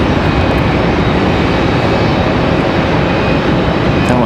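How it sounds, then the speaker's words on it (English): A loud, near, unbroken jet roar comes from an American Airlines Airbus A319 arriving from Miami at Raleigh-Durham International Airport. "Next arrival is American Airlines 3008 coming in from Miami"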